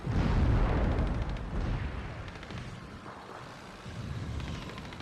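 An artillery shell explodes against a tank in a war audio-drama effect: a heavy, booming blast opens loud and rumbles on, slowly fading into a low roll with no voices.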